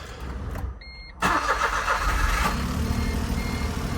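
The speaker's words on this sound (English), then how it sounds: "we're gonna fire up the car and then let it warm up" A Smart 451 car engine starting during a coolant change: a brief electronic chime, a moment of quiet, then the starter catches and the engine settles into a steady close idle.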